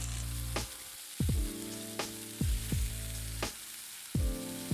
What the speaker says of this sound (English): Stir fry half of the garlic for a few seconds.